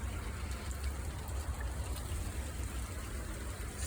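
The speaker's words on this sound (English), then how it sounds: "Look how heavy the rain is." Heavy rain pours steadily through an intense storm with hail over Portland, Oregon, a dense constant hiss with deep low rumble throughout, no voices.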